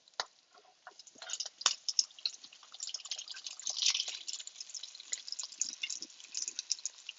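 Eggplant balls fry in hot oil, giving a steady crackling sizzle with scattered pops and spits, fairly quiet and continuous with no talking.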